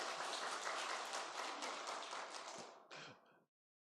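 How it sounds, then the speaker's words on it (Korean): Congregation applause during a church service, a broadband wash of clapping that holds steady, then fades out with a brief final burst before falling silent. "아유, 박수라니요."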